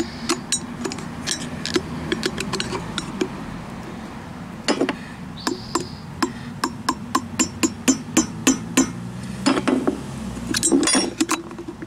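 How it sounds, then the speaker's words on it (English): A screwdriver is lightly tapped with a hammer to work a wheel bearing seal loose, producing a series of sharp metallic clinks. They come sparse at first, then in a quicker, fairly even run of close, crisp taps with no voices. "I'm just putting the screwdriver there and just lightly tapping"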